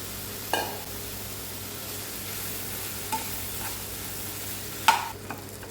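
Crumbled puttu is stirred into fried masala in a pan, giving a soft, steady sizzle with a few scraping clinks of a spoon against the pan.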